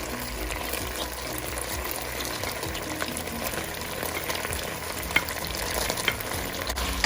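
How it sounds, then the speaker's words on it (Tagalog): Fresh chopped garlic fries in about a tablespoon of oil in a pan, giving a steady, dense sizzle with soft stirring scrapes throughout and one or two sharper pops near the end, no voices over it. "add a little bit of oil, like 1 tablespoon, and also add the fresh chopped garlic"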